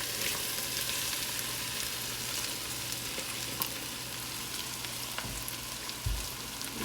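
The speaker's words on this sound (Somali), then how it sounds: "isku soo shiilay. haddana bariiskeena ku darsanaya" Rice frying in a pot for a Somali rice dish gives a steady, dense sizzle with faint stirring clicks and scrapes throughout, fairly quiet and without any voices.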